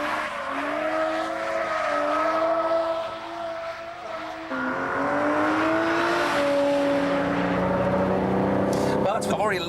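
An Aston Martin DB7 fitted with Brembo racing brakes is driven hard on a test track, its engine note rising and falling steadily and loudly, with brief tyre noise near the end and a voice talking over it.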